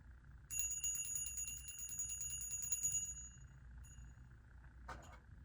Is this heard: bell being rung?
yes